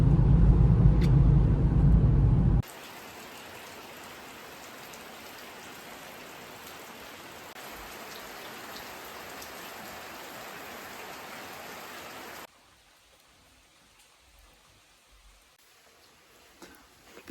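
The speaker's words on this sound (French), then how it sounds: "enfin là c'est plutôt sous la pluie" Rain falls steadily on a surface during a road trip in Kazakhstan, a dense hiss lasting about ten seconds after a short louder start, then dropping to a faint patter.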